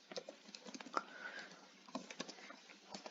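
Quiet, rapid keystrokes patter on a computer keyboard while someone writes Python code, irregular clicks in a soft burst.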